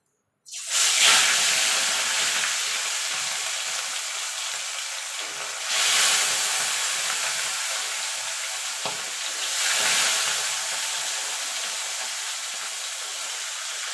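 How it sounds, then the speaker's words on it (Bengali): Pieces of rohu fish dropped into hot oil, an immediate loud sizzle that hisses steadily, swelling twice as more pieces are added, with no talking. "দেখুন বন্ধুরা তেলগুলো গরম হয়ে গেছে। এবার মাছগুলো আমি এক এক করে ছেড়ে দেবো।"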